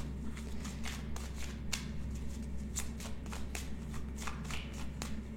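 Belline oracle cards shuffled by hand for a reading: a steady stream of soft riffling and papery flicks with sharper snaps, close and continuous over a low background hum.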